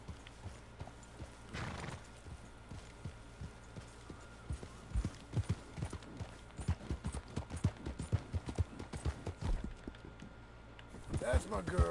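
Horse hooves clip-clopping in the Western game Red Dead Redemption II, a soft, uneven stream of steps with a whinny near the start and another at the end, under quiet talk.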